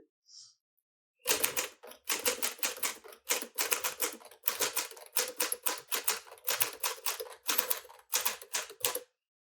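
Keys of a 1957 Smith Corona Silent Super manual typewriter clatter in quick bursts, steady and close, with brief pauses between lines.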